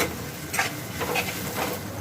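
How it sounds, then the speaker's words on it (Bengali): Grated ginger and garlic fry with onion and green chilli in a pan, a steady soft sizzle with a few brief stirring scrapes, close and alone. "আদা রসুনটাও একটু পেঁয়াজের সাথে ভাজা ভাজা করে নেব।"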